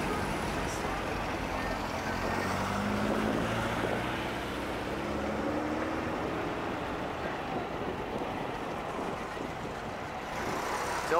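A Chevrolet Nova drives past at an outdoor swap meet, a continuous engine rumble blending with surrounding traffic for several seconds.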